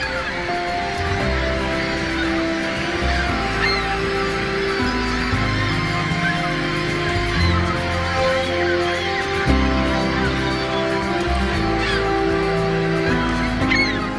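Several seagulls call in the Lofoten archipelago, giving repeated harsh, honking cries that overlap and come in bursts over a continuous background of bird noise.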